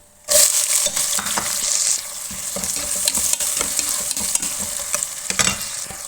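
Two medium onions, cut into large pieces, fry in a pan for chicken pulao, giving a loud, steady sizzle with scraping stir strokes throughout and no talking.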